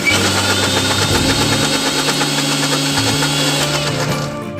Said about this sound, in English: We're now going to cover this and give it a rough mix.